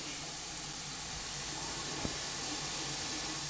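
Garlic frying in a pot for a minced-meat and vegetable stew gives a steady, even broadband sizzle and hiss throughout, close and moderately loud, with one brief clack midway.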